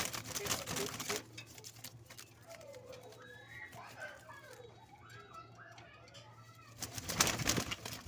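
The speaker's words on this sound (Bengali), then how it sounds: "কবুতরগুলো কত সুন্দর দেখছো?" Pigeons coo softly in a series of low warbling calls, with bursts of wing flapping and rustling at the start and end, and a person speaking nearby.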